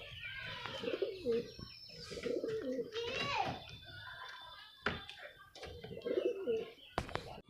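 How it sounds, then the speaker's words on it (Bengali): Pigeons cooing in soft repeated throaty bursts, with chirps and a few sharp knocks around them, fairly close. "দেখি এখানে কবুতর হচ্ছে আমার দুটো ইন্তার দুটো আর ফিরোজের চারটে কবুতর আছে এখানটায়"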